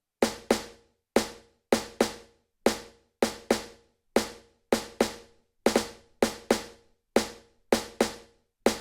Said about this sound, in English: The snare was played very standard drumming, and it sounds like this.